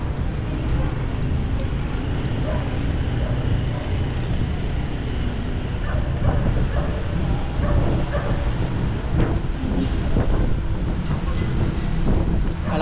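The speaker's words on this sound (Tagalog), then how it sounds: "Malakas ang hangin mga idol, kahit dito ako sa ilalim ng ano, tulay." Strong typhoon wind buffets the microphone beneath a bridge over the Marikina River in the Philippines, a loud, continuous roar with gusting rumble filling the whole stretch.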